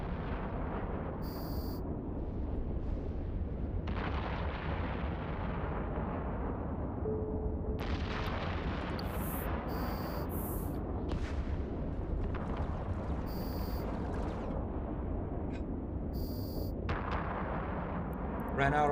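Missile launches and explosions in the space game EVE Online, a string of booming blasts and bursts over a constant low hum, with electronic alert tones now and then.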